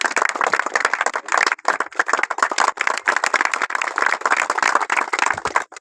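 Loud, sustained applause from a crowd at the ribbon-cutting opening of a rural village cricket tournament, dense clapping running throughout with brief dips.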